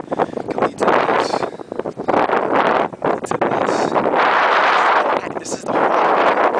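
Blizzard wind on the Upper East Side during the Boxing Day storm of 2010 roars in loud, buffeting gusts of blowing snow, pounding the microphone with rumbling bursts and brief lulls.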